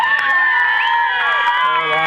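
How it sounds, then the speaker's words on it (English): Baseball fans along the outfield fence at a local league final cheer and shout in a steady, dense roar of mixed voices, with children's high-pitched yells and whoops rising over it throughout. "That's up the fans. Cheering along the fence."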